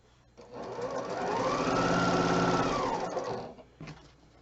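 A sewing machine stitching quilt block pieces runs in one continuous burst of about three seconds, revving up, holding a fast steady whir and winding down, close and clear, with a couple of faint clicks after it stops.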